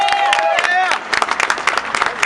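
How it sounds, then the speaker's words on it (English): At a protest rally, a crowd claps in scattered bursts that thin into separate claps, following a moment of whistling or cheering voices at the start. "Another round of applause."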